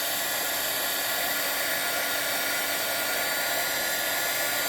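A craft heat tool blows hot air onto embossing powder, a steady, loud, hissing fan roar that holds constant from start to end.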